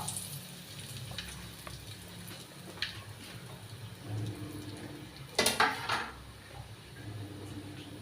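Curry leaves and mustard seeds sizzle in hot oil for a soya dry dish, a soft, steady frying hiss with occasional sharper crackles and a light clink of a pan or utensil.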